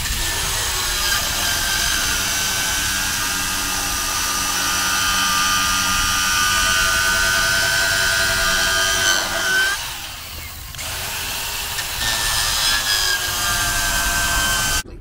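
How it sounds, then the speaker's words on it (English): Small battery-powered tool fitted with a universal beveler bevelling PVC pipe, giving a steady, continuous whining grind that dips briefly partway through before resuming at close range. "So this is a small battery powered tool with our universal beveler on it."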